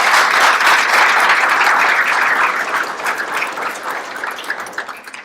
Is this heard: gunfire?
no